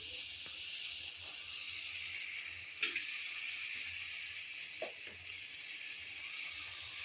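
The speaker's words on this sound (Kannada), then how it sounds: "ನೆನೆ ಹಾಕಿದ ಬೇಳೆಯನ್ನು ಹಾಕಬೇಕು ಹಾಕಿ ಚೆನ್ನಾಗಿ ತಿರುವಾಡಬೇಕು" Soaked lentils frying in a pan for ridge gourd palya give a steady, even sizzle, broken by a couple of soft scrapes and knocks as they are stirred.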